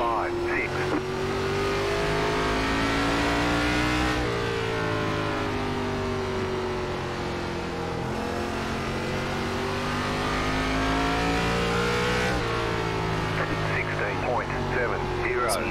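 Race car engines from an ARCA Series stock car event at Langley Speedway in iRacing, a continuous loud drone of several engines with rising and falling pitch as the cars head back onto the track, with a voice talking over them.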